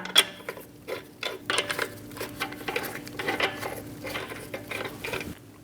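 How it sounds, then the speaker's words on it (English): Lug nuts being threaded by hand onto a Dodge Durango wheel stud, giving irregular small metallic clicks and rattles close by, alone and without voices. "Get the 5 lug nuts started by hand."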